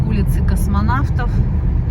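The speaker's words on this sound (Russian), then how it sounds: "что я с открытым окном еду" A car drives along a newly repaired street in Yakutsk with a window open, a steady rumble of road and wind noise filling the cabin while someone talks over it.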